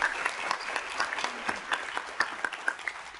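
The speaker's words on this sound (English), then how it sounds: "I like to hear you clap" An audience at a prevention conference claps in a fairly thin, scattered round, individual hand claps standing out as sharp repeated cracks at moderate distance.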